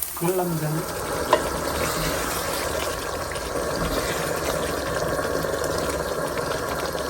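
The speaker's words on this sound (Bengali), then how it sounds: "মোটামুটি কষানো হয়ে গেছে তেল উঠে গেছে" Spices frying in oil in a pan, a steady close sizzle with light stirring that runs evenly throughout, with a brief knock near the start.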